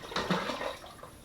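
Water poured into a container of 2 kilos of sultanas for homemade wine, about 4.5 to 5 litres: a steady, close splashing and gushing pour with no talk.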